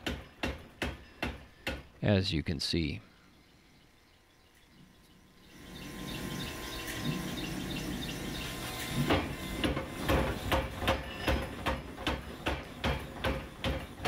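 A blacksmith power hammer forging metal, struck in a spot between two hammers, pounds in rapid repeated blows near and loud, stops briefly, then resumes a steady rhythmic hammering with a person speaking over the start.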